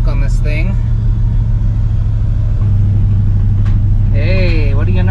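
An old truck engine with no choke idles while warming up, a steady low rumble running throughout beneath a voice, which talks over it at the start and near the end.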